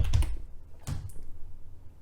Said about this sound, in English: Gonna type him in.